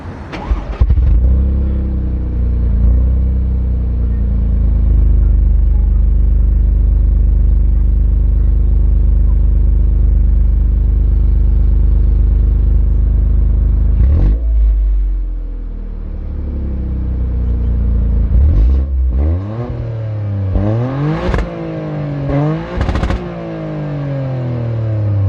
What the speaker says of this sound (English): clip of what it sounds like when I start up the car